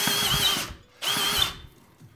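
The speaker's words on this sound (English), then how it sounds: "I don't think I like this wood drill very much." A cheap wood drill bit from an electronics grab bag runs in two loud, harsh bursts of whining power-tool noise, each about half a second long, separated by a short silence.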